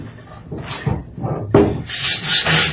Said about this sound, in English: What I like about the method of using a piece of sandpaper is it exposes all the rough pieces underneath